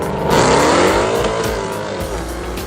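Mercedes C63 cars in a drag race scream past, with loud rising engine revs and quick gear changes, then a strong whoosh as they pass nearby.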